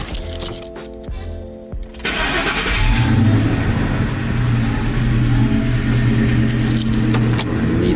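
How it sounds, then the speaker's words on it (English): A completely stock car with no mufflers cranks over and fires up, then settles into a loud, raw, rumbling engine note that holds steady close by. "show y'all now what my car sounds like. Completely stock, no mufflers"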